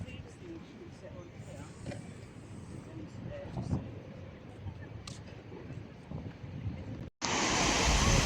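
Cold, clear sea at a beach at La Pineda, waves washing in a steady broad roar mixed with wind buffeting the microphone, growing suddenly louder and closer near the end.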